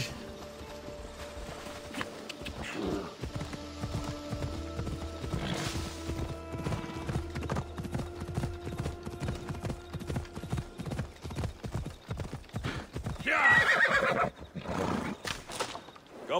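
Hooves clip-clop in a quick steady rhythm while a horse neighs loudly partway through in Assassin's Creed Odyssey, with game-like ambient tones in the background.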